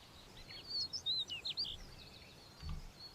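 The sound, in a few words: bird noises in a soundtrack or playlist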